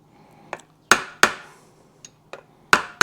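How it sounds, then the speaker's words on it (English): A plastic hammer taps a Yamaha 360 engine top-end part with sharp, ringing blows, struck singly and in a quick pair, several blows spaced irregularly with quiet between them. "And I am using a plastic hammer."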